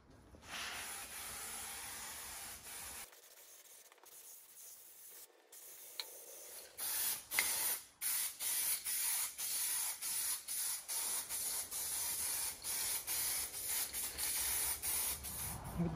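Spray paint hissing in long, steady passes as coats go onto a 42-inch John Deere 100 Series mower deck, stone guard over the 415 paint, close and continuous with brief pauses between sprays.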